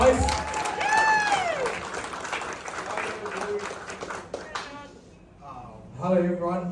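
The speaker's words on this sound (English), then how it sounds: "A round of applause, guys." A brief round of clapping from guests at a Samoan Māori 21st birthday celebration, with an all-white dress theme, mixed with talk, cheering voices and a sung or whooping tone before fading into a speaker.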